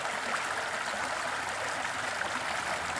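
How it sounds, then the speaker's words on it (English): A running stream on a hike flows with a steady, close rushing wash as a 4-liter water bag is dunked in to fill with dirty water; no voices. "Find a running stream. You dunk it in and let it fill up with water."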